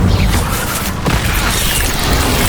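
An Incendio fire spell is cast in Hogwarts Legacy, producing a dense, loud blast of roaring, crackling fire and impact noise that fills the whole moment.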